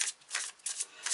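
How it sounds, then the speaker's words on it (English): A Light Seer's Tarot deck is shuffled by hand in several quick, papery riffling bursts separated by short pauses, soft and close, with no speech. "I'm just going to shuffle these really good"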